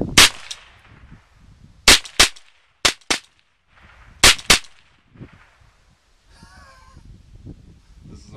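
A rifle fitted with an A-TAC muzzle brake fires sharp, loud shots outdoors, singly and in quick pairs, about seven in total, with soft background noise and a brief chirp between them.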